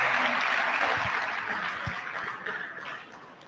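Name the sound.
audience applause for Professor Doyin Salami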